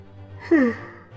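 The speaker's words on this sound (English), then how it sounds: "Sorry, yawning." A single breathy yawn, rising then falling in pitch with a soft voiced tone, heard close and alone over a low steady hum.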